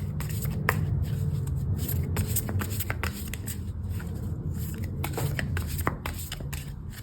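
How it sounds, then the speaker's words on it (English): Tarot cards being shuffled by hand, a steady papery riffle and slide that runs continuously, close and fairly loud, with sharper flicks and snaps of individual cards breaking through now and then. "I'm going to start shuffling my cards"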